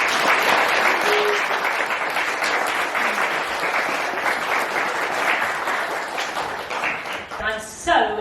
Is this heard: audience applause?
yes